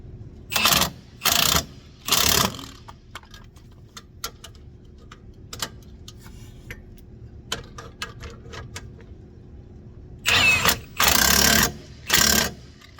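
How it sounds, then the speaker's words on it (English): An impact wrench with a 19mm socket works the rear strut bolts of a second-generation Lexus IS250/350: three loud, rattling bursts, a quiet stretch with faint ticks, then three more bursts. "I'm gonna grab my impact again."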